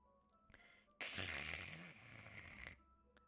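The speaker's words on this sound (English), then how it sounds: "What is that noise? It's coming from around the corner. Sounds like breathing." In the video game Doki Doki Literature Club, one long, loud, raspy breath, close and harsh like a snore, fills about two seconds between quiet moments.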